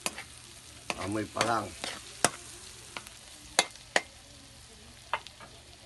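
Ginger sautéing in a pan over medium heat for ginataang kalabasa and sitaw, with a steady soft sizzle broken by several sharp scraping clinks of a utensil stirring against the pan.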